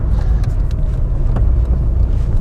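A deep, steady engine rumble from a Mk2 VW Golf GTI 8v with a Milltek sports exhaust, throaty exhaust note, continuous and fairly loud, with no one talking.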